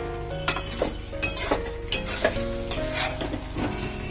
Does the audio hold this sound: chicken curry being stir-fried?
yes